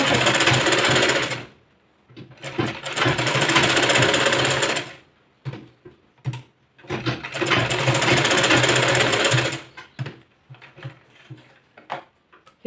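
A sewing machine stitches a boat neck blouse in two long, steady bursts of rapid needle whir, with short pauses and a few lighter mechanical clicks in between.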